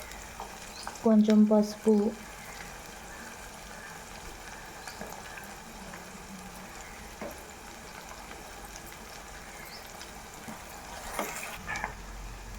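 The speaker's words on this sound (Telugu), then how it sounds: "ఉల్లిపాయ మంచిగా ఫ్రై అవుతుంది" Onions fry in a pan for a curry, a soft continuous sizzle with occasional stirring, and a voice speaks briefly near the start.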